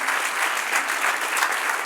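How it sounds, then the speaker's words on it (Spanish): A church congregation claps steadily and loudly throughout a sermon, a dense wash of applause with no voices standing out. "Dale un aplauso al Señor"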